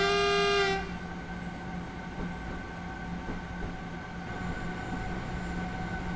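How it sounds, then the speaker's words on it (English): Pantograph electric train running on a third-rail section in Train Simulator 2017 on the Hamburg–Lübeck route, a brief horn-like tone at the start giving way to steady rolling rail hum and wheel noise. "We're driving a pantograph train in a third rail section of track."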